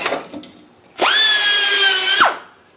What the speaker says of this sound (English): I'll just put a little die grinder in